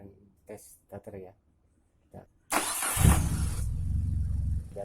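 Car starter cranking during a battery and alternator charging test: after a few short bursts of speech, the starter engages with a loud whir and the engine catches and settles into a steady idle.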